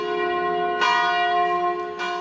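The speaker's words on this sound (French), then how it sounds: "Tôt le matin, les cloches sonnent" Church bells peal early in the morning at the Latin Patriarchate co-cathedral in Jerusalem, a sustained ringing with rich overlapping tones and fresh strikes near the start and end.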